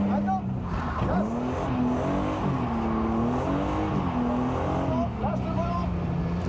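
A car engine accelerating, with rising and falling revs that are loud and close, with a slight squeal near the start and end, and voices talking over it.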